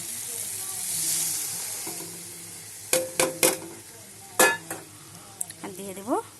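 Boiled peas are stirred into spices frying in a pan for Bengali ghugni. A soft sizzle runs under a series of sharp clinks and scrapes from the spoon against the pan, some of them grouped, plus a brief metallic rattle near the end.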